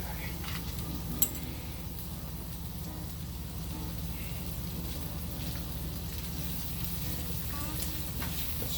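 Butter sizzling in a hot pan before scrambled eggs go in, a steady close crackle and hiss running evenly throughout with one brief clink near the start.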